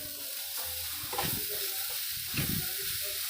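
Carrot halva with sugar is stirred in a pan, steady soft sizzling with two scraping strokes of a spoon, close and continuous, with no voices.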